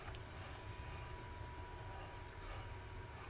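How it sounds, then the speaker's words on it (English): A subway train rushes past in Mortal Kombat, a steady, loud rumbling roar with rail noise sustained throughout, no speech over it. "she throws me to get hit by the subway train"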